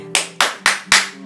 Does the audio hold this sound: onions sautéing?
no